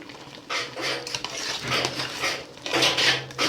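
Egusi soup is stirred in a cooking pot, giving close, wet scraping and sloshing strokes in uneven bursts, with occasional light clinks of the utensil against the pot.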